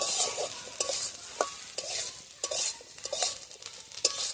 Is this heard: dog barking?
no